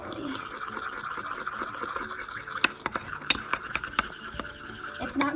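Homemade baby doll food mixture with flour being stirred by hand, with irregular scraping and clicking of a utensil against the container, moderately close, and a voice speaking briefly over it.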